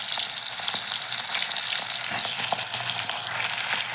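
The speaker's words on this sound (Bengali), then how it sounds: "এখন আমি মাছের মাথাগুলোকে ভেজে নিচ্ছি।" Hilsa fish heads frying in hot oil, a continuous close crackling sizzle with scattered pops and spits throughout.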